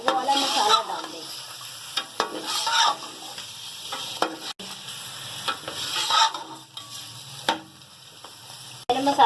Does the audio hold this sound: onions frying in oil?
yes